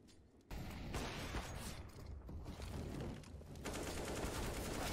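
Gunfire and mechanical clatter from a Counter-Strike (CS:GO) esports match play in rapid bursts over a busy, sustained game soundscape, with no commentary voices.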